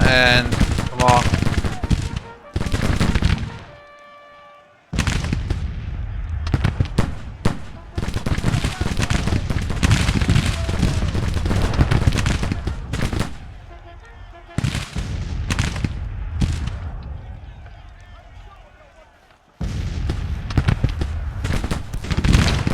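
Musket volleys and battlefield gunfire in the Grand Tactician Civil War 1861–1865 game, bursts of crackling shots and booms in loud waves separated by brief lulls, with a voice talking over parts of it.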